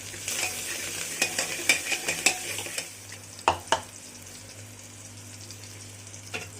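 Onions, tomato and coriander being stirred in a pan for Maharashtrian-style chicken curry, with a soft sizzle under a string of scraping spoon strokes clustered early on, then a few sharper clinks against the pan.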